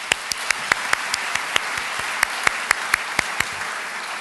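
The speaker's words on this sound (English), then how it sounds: "Let's give a clap for that." An auditorium audience claps together in a sustained round, with a few sharp, louder individual claps popping out at a regular pace over the wash of applause.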